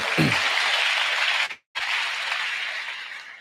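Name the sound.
audience applause for teacher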